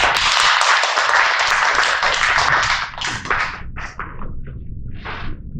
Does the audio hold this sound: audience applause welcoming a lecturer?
yes